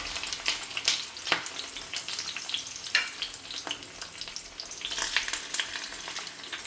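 Oil sizzles steadily in a pan holding prepared fish for a mustard fish curry (katla paturi), a continuous crackling hiss with scattered sharper pops, fairly quiet and without speech.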